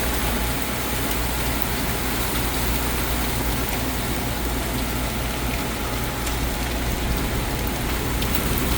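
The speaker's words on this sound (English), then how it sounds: "It's hailing." Hail and heavy rain pelting streets and surfaces during a June thunderstorm in New York City's Chinatown, a dense, steady downpour roar with a faint engine hum beneath it.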